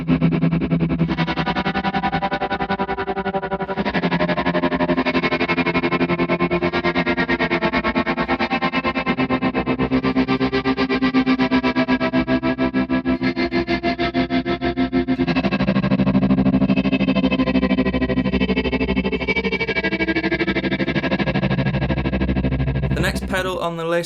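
Guitar played through a Dr. Scientist Atmosphere reverb pedal: dense, washed-out ambient chords with heavy reverb and modulation, continuous and loud throughout, ending with a brief click.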